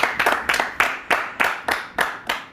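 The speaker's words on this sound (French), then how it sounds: "on peut vous applaudir encore ici" Studio audience of an African diaspora TV talk show clapping in a steady, spaced rhythm, about nine distinct sharp claps over a couple of seconds, close and fairly loud with no talking.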